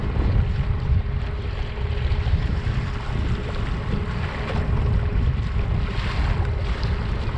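An Old Town ePDL+ motorized kayak cruises through ocean waves, with a constant rushing of water and wind buffeting the microphone, loud and steady with no voices.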